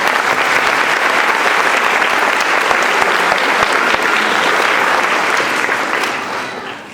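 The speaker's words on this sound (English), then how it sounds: "they get actually an extra round of applause for enduring some warm weather as we practice" Loud, dense applause from an outdoor audience at a third-grade chorus concert, steady and sustained for several seconds before tapering off near the end, with no one speaking over it.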